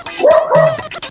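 A dog barks in two or three loud, close, yelping bursts in quick succession, outdoors on a rainy day, with no speech over it.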